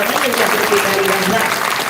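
Listeners at a Marathi kirtan clap along, a steady, close run of clapping that blends with a sustained voice or tone beneath it.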